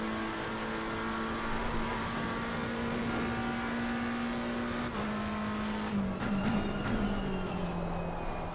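Race car engine in a sim racing game held near maximum revs, a loud steady high-pitched drone that dips briefly as the pitch shifts, then sags lower toward the end.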